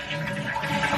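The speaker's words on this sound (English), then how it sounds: "Let's go ahead and give the commode a flush." A household toilet with its water supply shut off is flushed, a brief close rush of draining water from the tank.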